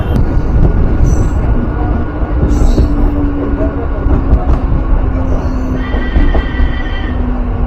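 A Sealdah to Dankuni local train pulls into Balighat station with a loud, steady rumble and a low hum, while high squeals rise and fade over the top.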